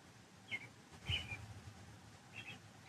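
Birds in quiet countryside of northern New Mexico give three faint, far-off whistled chirps spread over a few seconds against soft outdoor stillness, with no one talking.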